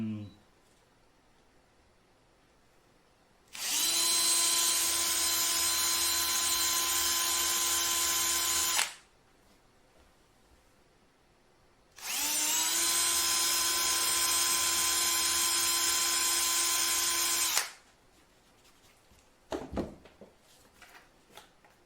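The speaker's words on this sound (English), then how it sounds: "the drill and the right bit" A power drill whirs in two long, steady bursts of several seconds each, separated by a pause, followed by faint clattering handling sounds.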